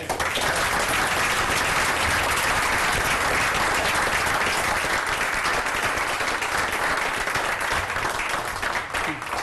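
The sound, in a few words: applause for the rescue squad at a council meeting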